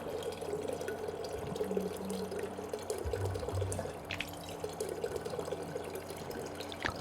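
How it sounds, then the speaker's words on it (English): Leaky water drips steadily in the video game Prey, a soft, close trickle over a low ambient hum with an occasional faint tone. "Just this loud, leaky water sound."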